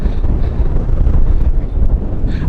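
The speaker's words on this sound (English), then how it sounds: "It is insanely windy out here and cold, very cold." Strong, cold wind at an Ocean City, Maryland beach at very low tide buffets the microphone in a steady loud roar with gusty surges, no voices heard.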